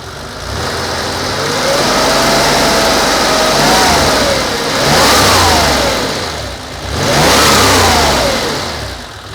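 A warmed-up Porsche 911 with a 3.2-litre engine idles smoothly nearby, then is revved twice, each rev swelling up and falling back to a steady idle.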